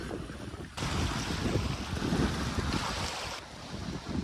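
Strong gusting wind buffets the microphone while waves surge and wash nearby during a storm at Bakota, Ukraine, a loud, continuous roar with no talking.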